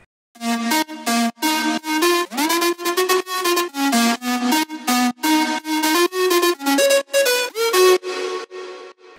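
Layered future house synth leads with distortion, reverb, phaser and pitch automation in FL Studio, a loud, bright, choppy melodic riff of short repeated stabs with gliding pitch bends, alone without talk.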